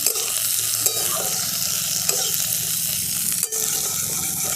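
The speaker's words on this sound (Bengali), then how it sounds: "এই আলু আর পেঁয়াজটাকে আমি ভালো করে ভেজে নিচ্ছি।" Potatoes and chopped onions frying in a kadai, a steady close sizzle with scraping stirs and one sharp clatter of the spoon against the pan.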